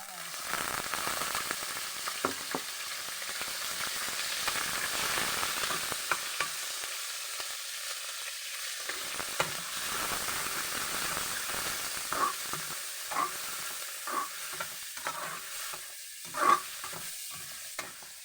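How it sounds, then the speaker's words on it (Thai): Sliced pork and vegetables are stir-fried in a pan, giving a continuous soft sizzle broken by repeated scraping and clattering stirs of the utensil, close and moderately loud with no talk. "ใส่หมูที่เราหั่นไว้ลงไป"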